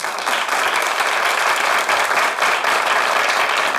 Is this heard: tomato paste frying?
no